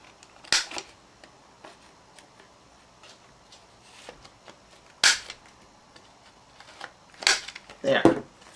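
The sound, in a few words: paper corner rounder punching card corners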